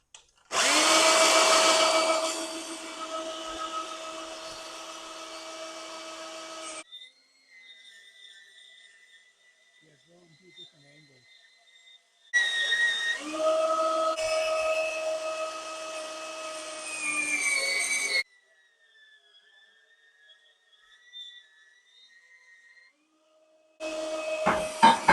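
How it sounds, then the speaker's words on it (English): A portaband saw cuts steel rectangular tube held in a vise, its loud, steady grinding whine coming in three separate bursts, with quieter gaps between where the motor hums faintly. "we got the portaband set up with some rectangular tube in the vise just to hold it in place"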